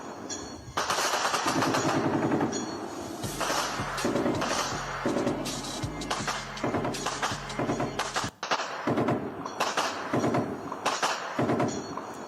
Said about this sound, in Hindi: आप देख सकते हैं किस तरीके से गोलियों की तड़तड़ाहट सुनाई दे रही है